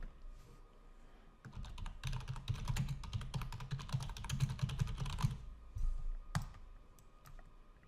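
Rapid computer keyboard typing with sharp, close key clicks in dense bursts, including a Ctrl+G shortcut press, with a few isolated clicks trailing after.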